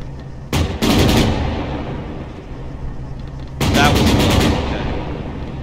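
A BMP's autocannon fires at bunkers in two loud rapid bursts, the first short, the second longer and several seconds later, each with a heavy booming tail.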